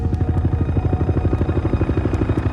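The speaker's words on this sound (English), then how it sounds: "rushes to the crash site in a Navy helicopter" Navy helicopter in flight, its rotor producing a loud, steady rapid thumping beat with a continuous engine drone, close and unbroken throughout.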